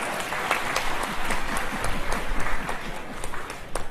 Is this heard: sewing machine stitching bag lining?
no